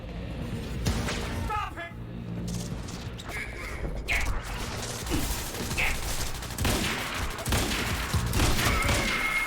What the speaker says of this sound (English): Shooting him did something.